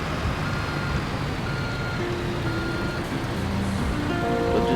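A truck reverses in the gravel yard of Construction Simulator 3, its backup beeper repeating steadily over a loud, continuous engine rumble.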